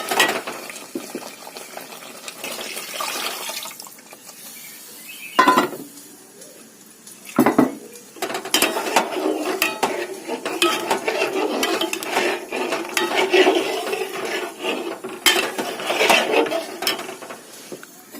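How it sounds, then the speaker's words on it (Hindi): Yogurt going into a curry in a pan, with metal spoon scrapes and clinks against the pan over a low sizzle, in irregular bursts of stirring. "अब मैं इसमें दही डाल दूंगी"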